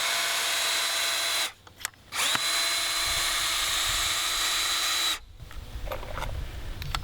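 Power drill driving 3-inch screws into a garden fence, with two long whining runs split by a short pause, then a clattering handling noise afterward.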